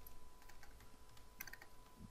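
Computer keyboard keys clatter in a quick, irregular burst of close, fairly soft clicks, with one denser cluster near the middle, and nobody speaking.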